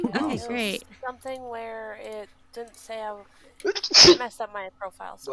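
One sharp, loud sneeze bursts out in the middle of casual conversation, with people talking before and after it.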